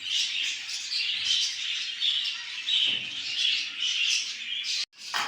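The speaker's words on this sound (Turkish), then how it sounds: "Üretimhanemizin en güzel kuşu." Captive birds at a breeding facility squawk and chatter continuously close by, a dense, harsh chorus of calls with no voices.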